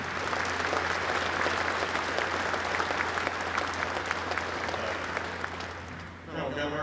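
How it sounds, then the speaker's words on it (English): A crowd at a military change of command ceremony at the 104th Fighter Wing applauds steadily for several seconds, the clapping dense and even before fading, with a voice coming in at the end. "Round of applause, please"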